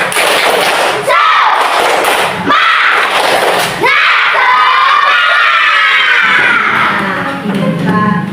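Indonesian fourth-grade schoolchildren in a classroom shout a rhythmic spirit clap chant, loud bursts of voices and sharp claps in repeated phrases, close and energetic.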